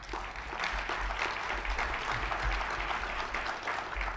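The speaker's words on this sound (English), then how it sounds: "you don't want to clap too much" An audience at a 2018 sustainability summit applauds steadily, a dense, even clapping that holds at a moderate level for several seconds with no talk over it.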